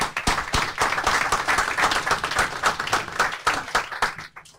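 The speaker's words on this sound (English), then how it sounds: "let me ask all of you for a round of applause to thank our panelists" An audience claps steadily for several seconds, a dense patter of many hands that thins out toward the end.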